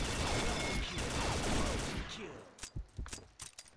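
An L85A1 rifle with a Tau mod camo fires in the video game Combat Arms: a rapid, dense burst of shots gives way to a few sharper, scattered cracks that fade out.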